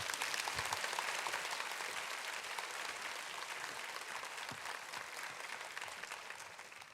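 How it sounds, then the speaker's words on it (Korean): A church congregation at a Korean summer prayer meeting applauds to welcome a pastor's wife to lead prayer, sustained dense clapping that stays steady throughout and fades slightly near the end. "여러분 환영과 또 감사의 박수로 맞이하도록 하겠습니다"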